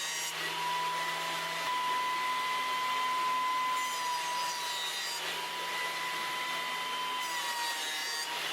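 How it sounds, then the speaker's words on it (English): The edges of a wooden board, leopardwood cut for woodturning, are flattened by a steady whirring machine cut with a constant high tonal whine and breaks in the grinding texture, fairly quiet and without speech. "But first I'm going to flatten the edges."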